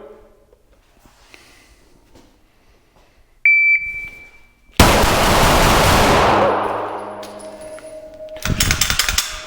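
Six rapid pistol shots from a Smith & Wesson M&P Metal fired in about 2.5 seconds on a shooting range, loud and sharp, with a beep and faint background noise beforehand.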